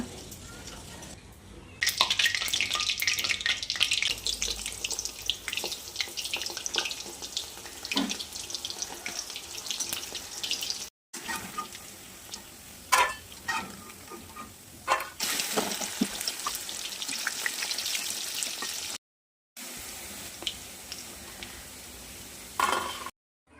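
Soya chunks coated in cornflour frying for soya manchurian, a loud continuous hiss and sizzle with clattering stirs, broken by brief silent gaps.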